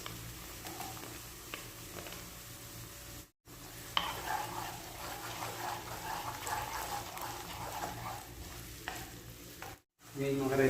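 Onion fries in a pan for goat bopis, a steady crackling sizzle with stirring clatter and scraping, briefly cutting out twice, no talking.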